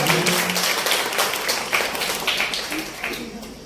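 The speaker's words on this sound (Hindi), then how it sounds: "जोरदार ताली से हर्षित" Audience applause for a performer named Harshit at a live arts event, a dense wash of clapping filling the room for several seconds with a voice briefly heard under it.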